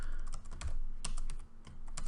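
Rapid typing on a computer keyboard, a dense run of close, crisp key clicks with brief pauses between bursts, no talking over it.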